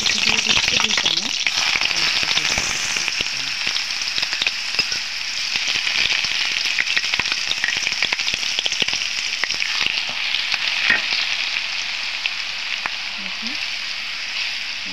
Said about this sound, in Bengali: পেঁয়াজ কুচি রসুন কুচিটা ভাজা হয়ে গেছে।